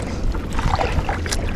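A kayak paddles on the sea, with uneven splashes and water swirls close by under a wind-buffeted rush.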